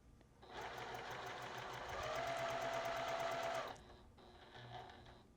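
A sewing machine stitches quilt fabric in a steady rapid whir for about three seconds, close and clear, then stops, followed by a shorter second burst of stitching.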